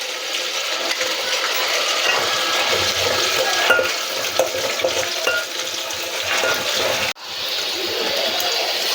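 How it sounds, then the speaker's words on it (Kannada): Garlic and Byadgi chillies fry in hot oil with a dense, continuous sizzle over several seconds, broken by stirring clinks, and the sound cuts out briefly near the end. "ಬೆಳ್ಳುಳ್ಳಿ ಸ್ವಲ್ಪ ಬಾಡಿದ ಮೇಲೆ ಬ್ಯಾಡಗಿ ಮೆಣಸಿನ್ಕಾಯಿ ಹಾಕ್ಕೊಳ್ಳೋಣ"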